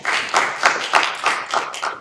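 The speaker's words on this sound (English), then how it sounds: "Let's welcome her with warm applause." Audience applause at a TEDx Youth event at ACS International Singapore, welcoming a speaker to the stage: a steady wash of claps with periodic swells, moderately close, with no talking over it.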